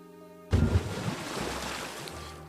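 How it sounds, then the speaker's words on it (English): A girl diving into a pond in a video game makes a sudden loud splash that cuts in after soft tonal music, then settles into a sustained washing rush of water that slowly fades. "Splash! Sounds a loud splash as water goes flying in all directions."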